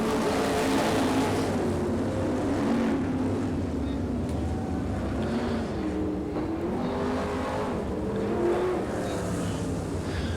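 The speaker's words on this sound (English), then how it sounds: "Meanwhile, out of turn 4, winning heat race number 3, Brandon Berth." Race cars roaring through a heat race, with a continuous loud engine drone and a shifting pitch as they pass, under an announcer's commentary.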